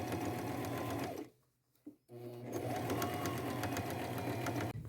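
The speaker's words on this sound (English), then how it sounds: "Now I'm going to sew them all on with a zigzag stitch." A sewing machine zigzag stitches flannel patches onto jeans, running loud and steady at close range, stopping briefly for about a second, then whirring on again.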